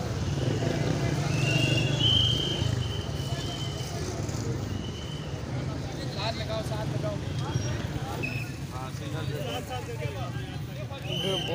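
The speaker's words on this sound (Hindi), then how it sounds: "हजारों लाखों बाइक हैं।" Dense crowd of motorcycles crawling through traffic at a large Tablighi Ijtema gathering in Islamabad, engines droning steadily near the listener amid shouting and crowd babble, with occasional horn toots cutting through.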